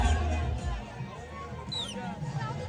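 Dense hubbub of a large crowd packed together at a Dahi Handi festival, a steady murmur of many voices with shouts rising briefly, heard close and continuous throughout.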